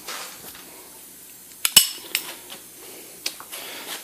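A wrench is grabbed from among metal tools in a knife-grinding workshop, giving a few sharp metallic clinks and clanks scattered over a few seconds against a quiet background.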